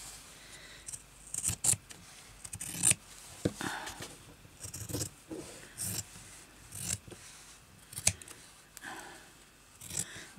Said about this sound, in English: I can cut this off now.